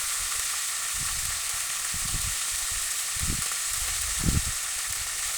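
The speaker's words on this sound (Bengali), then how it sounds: "তো মাথাগুলোকে কিন্তু আমি চারপাশ দিয়ে ভেজে এবার এটাকে আমি উঠিয়ে নেব।" Tilapia fish heads fry in hot oil with a steady, close sizzle, broken by several soft low thumps and stirring bumps spaced about a second apart.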